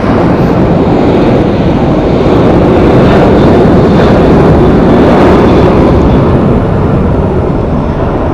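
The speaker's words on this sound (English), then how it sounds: "we got our American Airlines flight heading off to Minneapolis, taking off" An American Airlines airliner taking off from Phoenix Sky Harbor Airport, heard as a loud, steady broadband jet roar that holds strongly through the whole stretch, with no voices.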